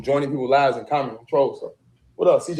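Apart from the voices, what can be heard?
No distinct noise like a dog, phone or traffic.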